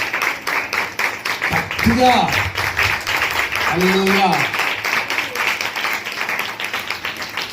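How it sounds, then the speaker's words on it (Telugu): A church congregation claps together in a fast, steady rhythm, with a voice calling out loudly over the clapping. "అందరం గట్టిగా చప్పట్లు కొడదాం."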